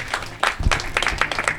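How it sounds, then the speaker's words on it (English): A film screening audience breaks into applause, a dense patter of clapping that swells after a brief quieter start and holds steady through the short stretch. "So round of applause for yourselves."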